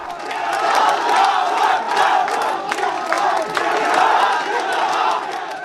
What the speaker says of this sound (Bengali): মধ্যরাতে নারায় তাকবির ধ্বনিতে মুখর জগন্নাথ বিশ্ববিদ্যালয় ক্যাম্পাস